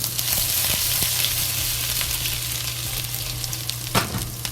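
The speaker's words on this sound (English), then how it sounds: "Slowly fry until but not burn the ginger, until the ginger releases good smell." Chopped ginger fries in hot vegetable oil in a pot for Mu Xu Rou, a loud, dense, continuous sizzle with occasional faint scrapes and one brief knock near the end.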